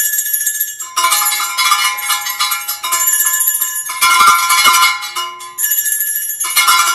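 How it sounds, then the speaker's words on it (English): A brand new Monongahela cowbell rings loudly in repeated bursts, its bright metallic clang sustaining through several strikes with brief gaps between. "compare that to the Monongahela brand new cowbell."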